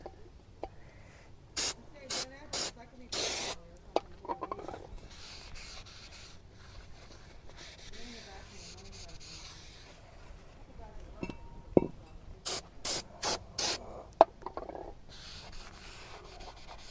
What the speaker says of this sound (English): I'm just going to use some brake clean.